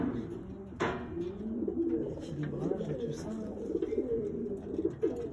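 Pigeons of the same racing type coo steadily in a loft, a low burbling murmur running throughout, with someone talking over it and a brief sharp noise near the start.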